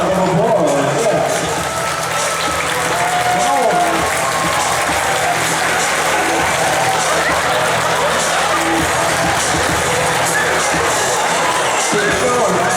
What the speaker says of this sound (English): Ladies and gentlemen, let's give a huge round of applause.